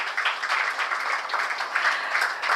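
An audience at a stock listing ceremony for Emmvee Photovoltaic Power Limited claps in steady, fairly close applause that continues without a break.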